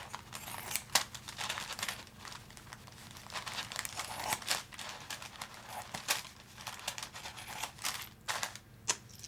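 Scissors cutting off a fabric seam while making beeswax wraps, with crisp snips and crinkling fabric handling in a busy, continuous stream of close rustles and clicks, without talking.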